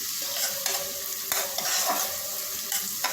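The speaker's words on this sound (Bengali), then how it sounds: "পেঁয়াজ একটু ভেজে নেব" Onions frying in a pan over a low gas flame, a steady close sizzle with a few stirring scrapes and no talking.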